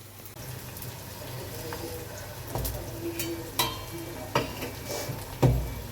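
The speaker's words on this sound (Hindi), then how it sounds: "तो प्याज मेरी भुन गई है।" Onions sizzle softly frying in a pan, with occasional sharp clinks and scrapes of stirring over a low background hum.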